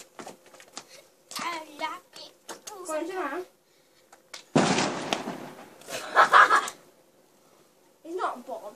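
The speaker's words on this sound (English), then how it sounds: "It's just fireworks." Fireworks go off nearby in a short, loud burst of crackling bangs with a few scattered pops afterward, between stretches of people and children talking.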